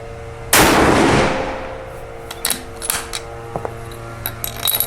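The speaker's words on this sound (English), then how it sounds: "We're going to run a couple blow-off shots here." A rifle fires a loud, close blow-off shot from a Seb NEO X F-Class front rest, a sharp crack that decays over about a second, followed by scattered small clicks and knocks of handling.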